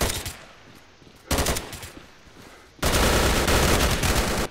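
Grenade blast and rapid gunfire in the S.T.A.L.K.E.R. video game, loud dense bursts of shots in separate volleys, the last one sustained and heaviest, with no voices.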